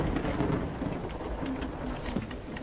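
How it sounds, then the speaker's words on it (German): A thunderstorm in the video game Tails of Iron brings steady rain with low rolling thunder underneath, plus a few sharper crackles near the end, and no one speaks. "Was ist eigentlich mit dem Wetter? Wieso fängt das hier an zu stürmen?"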